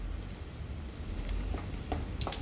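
Chicken skin fritters fry in oil, giving a continuous crackling sizzle with scattered sharp pops at moderate loudness.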